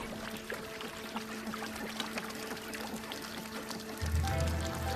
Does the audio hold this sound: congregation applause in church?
no